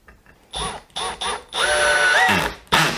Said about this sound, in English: Let's go and push some screws in with it.